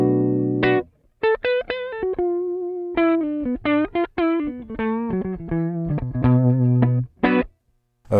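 An electric guitar on its neck pickup through a Headrush 1950s amp model turned down for a cleaner tone plays a bluesy single-note lick with short pauses and bends, fairly clear with mild grit.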